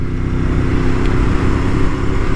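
A Ducati 848 motorcycle engine idles at low revs while still cold, a steady close chugging rumble with no voices.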